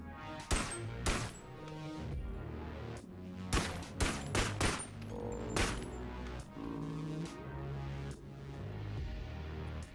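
Gunfire in the VR game BONELAB, a series of loud, sharp shots in quick bursts with short gaps between them, alongside ringing game sounds and no talking.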